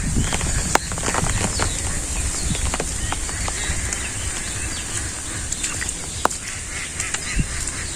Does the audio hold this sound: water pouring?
no